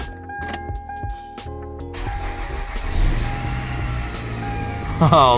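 A 2001 Toyota Camry with 141 horsepower cranks and catches, then settles into a loud, rough running engine up close, with people talking around it.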